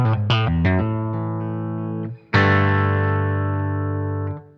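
Electric guitar through the clean channel of a Blackstar JJN Signature amp: a quick run of bright, articulate single notes, then a ringing chord struck and left to sustain, loud and alone.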